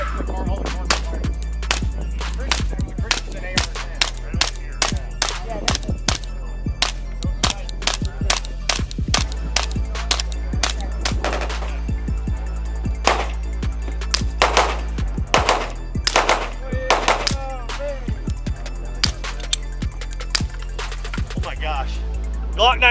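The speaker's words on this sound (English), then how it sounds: "Glock 19, Zev Custom Suppressed, Glock 21, 45 Auto, both Silencerco Ospreys, dual wield. We're gonna alternate fire." Two suppressed pistols, a Glock 19 and a .45 Auto Glock 21, each fitted with a Silencerco Osprey suppressor, fire alternately. A long run of sharp, close pops sounds over a steady low background hum.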